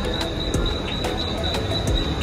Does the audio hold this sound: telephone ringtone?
no